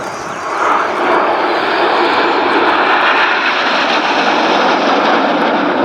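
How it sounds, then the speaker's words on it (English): A Spitfire flying overhead at the Biggin Hill air show, a loud, continuous roaring engine drone that swells slightly and holds steady as it passes, with no talk over it. "clearly Red 1 at the front and the middle, and this is Spitfire"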